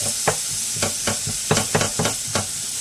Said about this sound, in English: I have some avocado oil in my pan so that I can get this cooked.